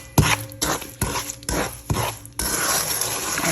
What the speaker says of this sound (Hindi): और चमचा साथ साथ हिलाते रहें ताकि